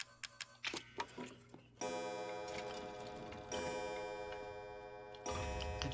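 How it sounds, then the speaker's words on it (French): Clock ticking inside the Resident Evil 7 game, a small pendulum clock giving steady, faint ticks under a sustained tonal background with some earlier sharper clicks. "Hop, la petite pendule."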